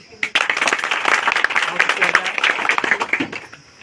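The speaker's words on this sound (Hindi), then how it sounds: "इनके लिए जोरदार ताली।" A crowd claps in a steady burst of applause, close and fairly loud, with some voices mixed in underneath, at an event honouring a senior civil judge in Tehri, India.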